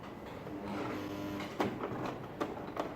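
A sewing machine stitching back and forth on a ladies' shirt dress: a steady close mechanical whir, then several sharp clicks and knocks as the stitching changes direction.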